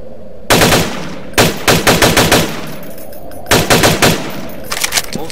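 Gunfire in the Unity-built open-world survival horror game Frequency comes in loud, sharp shots, grouped into quick bursts of several rapid reports with short pauses between volleys.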